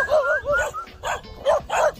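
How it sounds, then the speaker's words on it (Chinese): Several dogs bark in short, repeated bursts at a lone farmhouse in the remote mountains above a river gorge. The barks are loud and fairly close, with yips and whimpers mixed in. "我们已经听到狗叫"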